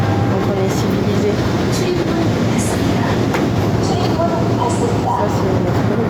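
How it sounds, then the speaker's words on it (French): Metro train in a station, heard as a loud continuous rumble and rolling rail noise with faint clicks, while people talk nearby. "Ça c'est le métro."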